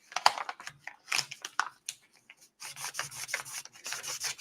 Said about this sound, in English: Using sandpaper now to just take down one of these parts a little bit